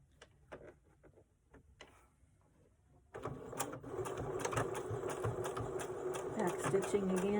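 A sewing machine back stitches on a wallet pocket, starting after a few quiet clicks and rumbling steadily in a rapid, even chatter for the second half.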